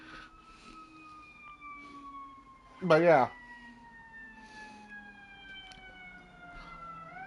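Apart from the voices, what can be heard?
ambulance or fire truck siren passing at night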